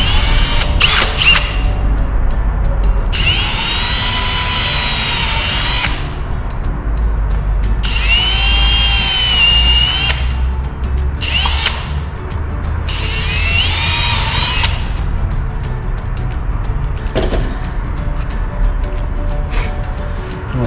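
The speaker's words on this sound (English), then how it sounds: "I'll come back, just drill this hole." A power drill whines in several bursts of a few seconds each, with short pauses between, over a loud steady mechanical hum.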